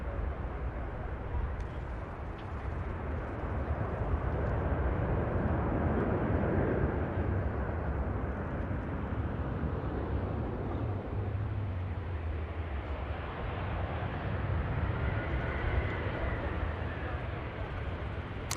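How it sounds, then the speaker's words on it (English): A Virgin Atlantic A350 airliner taking off from a runway at Manchester Airport, a broad, steady jet roar that swells and holds, heard from a distance. "There's the Virgin A350 on the move now. As per usual, just springing off that runway."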